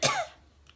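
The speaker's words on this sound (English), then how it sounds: "Thought I might make it without having to cough" A single short, sharp cough bursts out close to the microphone, followed by quiet room tone.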